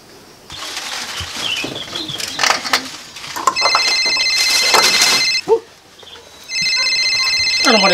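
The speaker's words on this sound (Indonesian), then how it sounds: "saya telepon saja ibu Rudo yang wakili." A telephone rings in a home, its electronic ringtone sounding in two bursts of repeated tones amid background chatter and household noise, with voices nearby.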